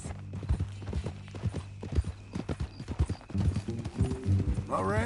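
Horse hooves clip-clop at a walking pace in the video game Red Dead Redemption 2, irregular close footfalls under conversation between characters, with a brief whinny near the end.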